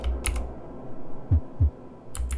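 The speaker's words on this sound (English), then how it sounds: "I heard a heartbeat." A heartbeat from the video game Don't Forget gives two soft, low thumps close together near the middle, faint under clicky keyboard-like tapping at the start and end.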